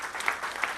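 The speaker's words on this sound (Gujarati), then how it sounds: "ગાડત ગીતાબેનને જોરદાર તાળીઓ થઈ જાય" Audience applause breaks out at a Gujarati devotional bhajan gathering, a short burst of dense, steady clapping with no voices over it.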